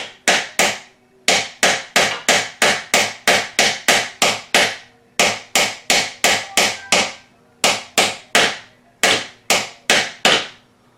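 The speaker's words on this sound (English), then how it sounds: "So grabbing that, I can now hammer, and I have a little dinky hammer here." A small hammer repeatedly taps the hinge pin of a closet door, sharp metallic strikes in quick clusters of four to six blows separated by short pauses, loud and close with no talking.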